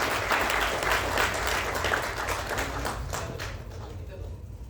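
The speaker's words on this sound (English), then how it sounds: "Please give a round of applause for all the Talati families" Audience applause at an engineering award ceremony, honouring the Talati families: a sustained round of clapping that stays steady, then thins and fades out toward the end.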